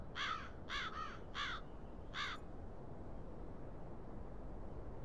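A crow in its nest in the Black Mirror II video game caws four times in quick harsh bursts over a steady low background hum, then falls quiet for the rest of the clip.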